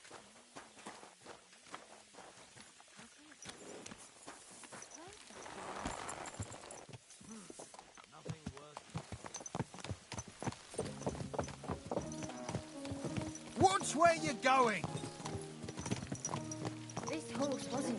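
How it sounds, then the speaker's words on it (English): Horse hooves from riding in the video game Kingdom Come: Deliverance 2, a rhythmic clip-clop of steps that grows louder and faster over time, mixed with game music, with a character's shout partway through. "Mount up and ride with me."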